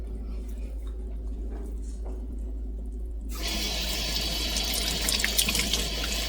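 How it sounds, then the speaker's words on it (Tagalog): Tap water starts running suddenly partway through, with a steady splashing rush as a pepper is rinsed in a kitchen sink, after a near-silent start. "Hugasan lang natin itong ating pepper."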